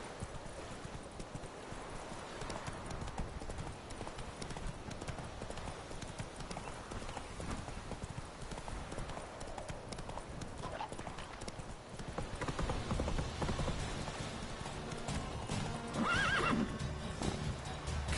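Galloping hooves of the horse in The Witcher 3 video game, a steady rapid clip-clop that keeps on throughout, with a neigh near the end.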